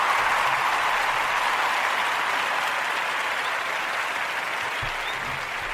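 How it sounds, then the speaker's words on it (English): Sustained applause for people making masks, shelters and 3D-printed supplies, a steady even wash of clapping with no distinct breaks, fading slightly toward the end. "Let's give all the people doing good things a round of applause"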